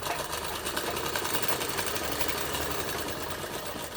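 A sewing machine runs steadily, stitching around the neckline of a garment with a continuous fast whirring hum at close range and no talking.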